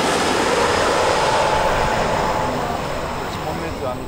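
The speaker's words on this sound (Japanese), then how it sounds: "プロペラ機がこちら側へ着陸いたします。" A Bombardier Dash 8 propeller plane landing, a loud steady roar of engine and rushing air that fades slightly toward the end, with talk heard over it.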